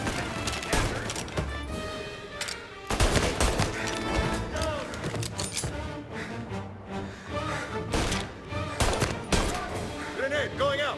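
Gunfire in a shootout from the video game Mafia: Definitive Edition, dense bursts of shots and impacts layered over game music and effects, loud and continuous for the whole stretch, with voices from the game mixed in.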